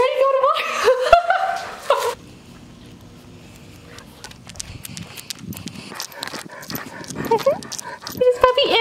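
A large old dog makes sharp yips and barks near the start and again near the end, with a person talking over much of it before going out for a walk.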